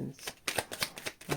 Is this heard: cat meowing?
no